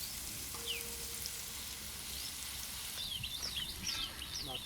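Chopped green chillies sizzling in a pan for pav bhaji made without a tava, a soft continuous fry under faint chirping bird calls outside, fairly quiet and steady with no talk.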